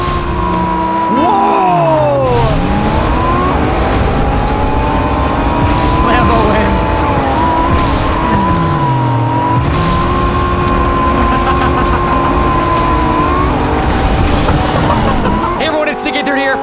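Lamborghini sports car driving in Fortnite, a loud continuous engine roar with rising and falling pitch sweeps as it accelerates and shifts, tire noise throughout, and a brief drop near the end.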